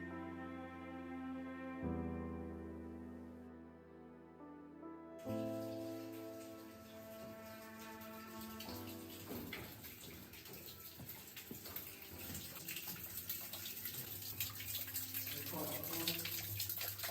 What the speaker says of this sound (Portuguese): Vejam que há uma nascente de água aqui dentro da gruta, no subterrâneo.